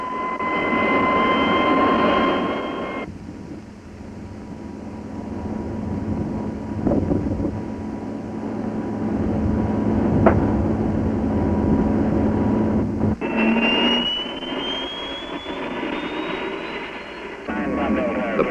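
A Lockheed T-33 Shooting Star jet engine runs during a ground checkout, giving a loud, steady roar with high whining tones throughout and a rising whine near the end.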